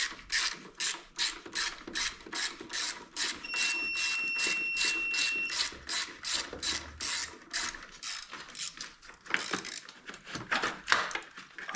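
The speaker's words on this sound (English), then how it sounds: "Use a 10mm socket to take the battery hold down loose." Ratchet wrench with a 10mm socket loosening a car battery hold-down, a close, rapid series of sharp clicking strokes in bursts, with brief pauses between swings.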